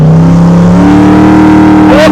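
A 1968 Camaro Pro-Street V8 cruising at about 50 mph, heard loud and close from inside the car as a steady droning engine note that rises slightly in pitch near the end.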